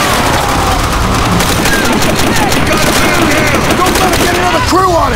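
Dense, continuous gunfire and explosions in the World War II shooter Call of Duty: World at War, a loud battlefield barrage of overlapping shots with shouting voices mixed in.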